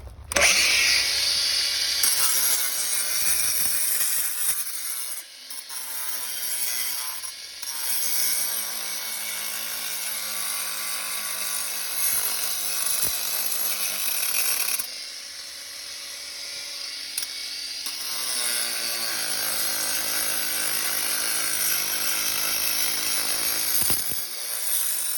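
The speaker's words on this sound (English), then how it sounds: "I'm going to be taking the grinder, and I'll be grinding out a little bit more of it." Angle grinder cutting out cracks in a pond's concrete, a loud high-pitched whine that runs almost continuously for about 25 seconds with a few brief dips where the disc eases off, no talking.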